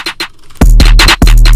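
A trap-style beat from a genre remake of a song enters with hard snare hits over deep booming bass kicks. The pattern is loud and punchy, following a few quieter scratchy hits at the start.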